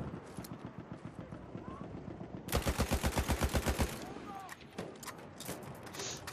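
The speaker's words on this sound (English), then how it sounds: "I'm struggling to even shoot properly with this gun" Gunfire from a weapon in an online shooter game, a rapid burst of loud close shots in the middle with scattered single shots and background game noise, a voice speaking over it.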